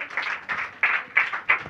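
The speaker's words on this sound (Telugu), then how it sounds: "చప్పట్లు కొట్టాలప్పుడు" A church congregation claps together during a pastor's sermon, the applause swelling in uneven waves of bursts, fairly close and steady, with no voices standing out.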